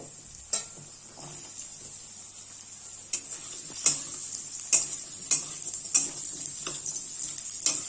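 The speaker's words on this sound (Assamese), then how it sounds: "मैं आलूखिनि अलपमान निमख और हालधि দি भाजी लम" Potatoes frying in a pan with salt and turmeric, a steady soft sizzle broken by several sharp scraping stirs and clinks of a utensil, close and fairly quiet with no talking.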